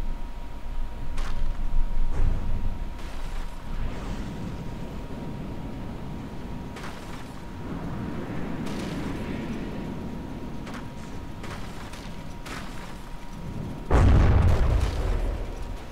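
Explosions and missile hits in From The Depths naval combat, deep booming blasts with a sustained rumbling roar, the loudest impact landing near the end.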